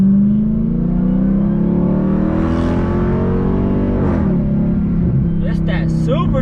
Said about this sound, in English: It's that supercharger whine.